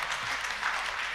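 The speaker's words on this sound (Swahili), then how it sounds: "makofi" A congregation at a Kikuyu church service bursts into steady, dense applause, the many hands blending into a continuous close clatter that holds at an even level throughout.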